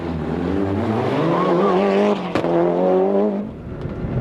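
A rally car, crewed by Dickie Curran and Gary Lyons, yanks through a handbrake turn on the 2001 Tour de Luxembourg Rally, its engine roaring close by while the tyres squeal and skid for several seconds before it fades.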